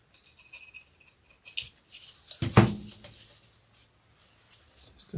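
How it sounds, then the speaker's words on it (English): Scissors snip through wet tissue covering on a Guillow's Bird Dog balsa model aircraft, giving one sharp close cut with a few faint rustles and snips around it in a quiet room. "I was going to knife this, but I think because it's now wet, I should use the scissors."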